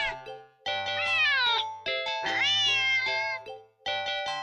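A cat meows loudly and insistently, several long wavering cries in close succession right near the listener, with brief gaps between them and no talking.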